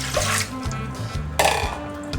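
Water pours steadily with a hissing, splashing rush into a bowl, continuous and close, with a low hum underneath.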